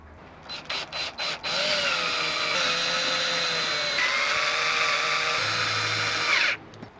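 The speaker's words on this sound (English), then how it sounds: "use the provided self-tapping screws to mount the bracket in place." A cordless drill drives the supplied self-tapping screws through a backup camera mounting bracket on an RV. Four quick trigger bursts come first, then one long, steady whine that slows and stops, with no voices.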